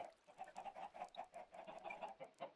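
Chickens clucking in the video game Minecraft, a quiet run of rapid, evenly repeated clucks that pulse steadily throughout.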